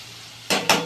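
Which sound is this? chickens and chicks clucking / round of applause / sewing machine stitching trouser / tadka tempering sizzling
tadka tempering sizzling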